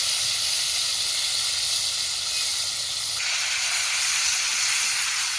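Ginger paste drops into a hot pan with tomato, salt and green chili, giving a steady loud sizzle and hiss that continues unbroken, shifting slightly in tone partway through.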